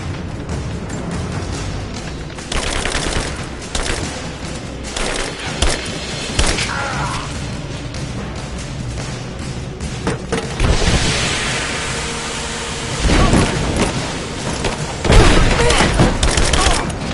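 Gunfire fills a Rise of the Tomb Raider firefight: dense, loud bursts of shots and heavy thumps roll on almost without pause, with combatants shouting over the din.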